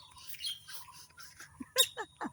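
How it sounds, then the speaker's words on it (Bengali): Small birds chirp in the evening, with a quick run of thin, high tweets near the end over a faint low hum, no one talking. "কিচির মিচির শব্দ"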